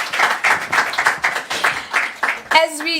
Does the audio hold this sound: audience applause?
yes